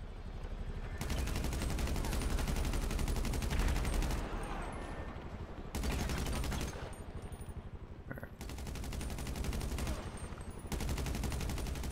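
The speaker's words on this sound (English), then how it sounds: "Fireworks launcher." Rapid, sustained bursts of launcher fire from a fireworks launcher in GTA Online during the Cayo Perico Heist, loud and dense, with brief gaps between volleys.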